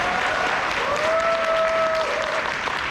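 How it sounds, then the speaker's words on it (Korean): A seminar crowd at a resort claps together in a sustained, dense burst of applause, loud and even throughout, with a thin whistle or cheer riding over it. "박수 한번 쳐주십시오."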